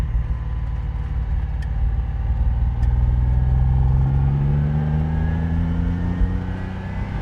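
A 1971 Ferrari 246 GT Dino drives on twisty roads, its engine note rising smoothly through the revs while accelerating, loud and close, with a couple of faint clicks.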